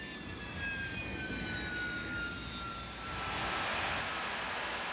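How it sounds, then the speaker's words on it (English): A Harrier jet flying low passes overhead with a steady, loud jet roar and whine, the pitch sliding downward as it moves past, with no voices. "To accomplish the mission, the Harriers fly low,"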